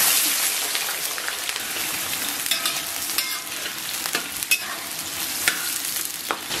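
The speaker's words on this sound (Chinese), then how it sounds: "咱们把提前准备好的葱姜给它下到锅中" Scallions and ginger sizzle in a wok of hot oil, a loud continuous frying crackle with scattered sharper pops throughout, close up and with no talking.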